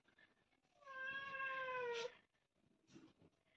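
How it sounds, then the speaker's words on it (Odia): A pet cat gives one clear, drawn-out meow at close range in a quiet room, followed by faint household sounds. "ଏଟା ମୋ ବିଲେଇ ମ୍ୟାଉ ମ୍ୟାଉ କରୁଛି"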